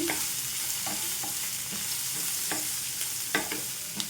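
A spoon stirs turmeric into a sizzling chickpea masala curry in a pan. Repeated scraping strokes sound over a steady close frying hiss, with no talk.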